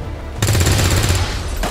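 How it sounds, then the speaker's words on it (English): Rapid burst of in-game gunfire aimed at a fuel tank in the video game XCOM 2, loud mechanical rattling shots starting abruptly and running steadily for over a second before cutting off. "Another fuel tank here, so I'm gonna shoot that."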